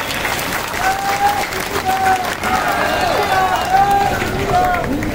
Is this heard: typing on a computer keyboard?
no